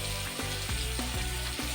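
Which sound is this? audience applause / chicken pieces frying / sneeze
chicken pieces frying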